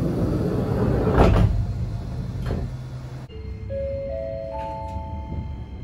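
Tram doors at the Dogo Onsen terminus in Matsuyama close with a heavy rumble and a thud over the hum of the car, followed by a short rising electronic chime; nobody speaks.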